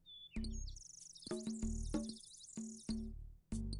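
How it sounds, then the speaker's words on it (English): Bird chirping ambience in RuneScape, repeated bright, high tweets and trills arriving in short clusters, clear and close, with no talking over them. "like, birdies chirping around here?"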